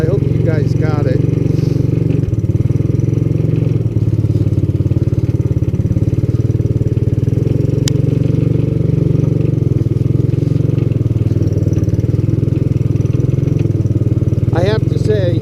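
A vintage Honda ATC200S three-wheeler ridden at speed, its single-cylinder engine droning loud and steady close by, with someone talking over it throughout.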